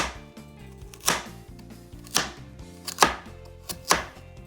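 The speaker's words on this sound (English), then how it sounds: "I'm gonna cut them back into small pieces like that so they can cook easily" A knife chops vegetables into small pieces on a cutting board for a hearty fall soup, four or five sharp, distinct thuds at irregular intervals, close and clear with no talking.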